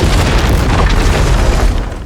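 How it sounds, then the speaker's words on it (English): A bomb explodes in the video game 007 First Light inside a hotel, a loud, sustained roaring boom filling about two seconds before beginning to tail off. "The bomb explodes"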